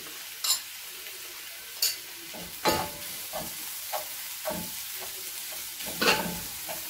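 Masala being sautéed for chicken kothu chapathi in a pan, with a steady close sizzle and repeated scrapes and clinks of a spoon or spatula stirring against the metal.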